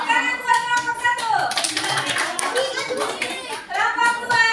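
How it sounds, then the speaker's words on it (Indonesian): A group of students claps together in a classroom. Brisk applause runs through the middle, with a teacher talking over the start and end. "Tepuk tangan buat kelompok 1."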